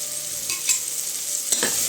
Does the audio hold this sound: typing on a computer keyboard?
no